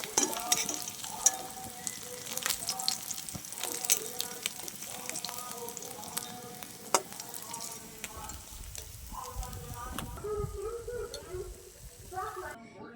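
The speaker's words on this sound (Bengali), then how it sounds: "বাকি মাছগুলি এভাবে করে ভেজে নেব। সবগুলি মাছ ভেজে নেব।" Small fish fry in hot oil in a pan, a busy crackling sizzle punctuated by sharp pops and clinks of utensils.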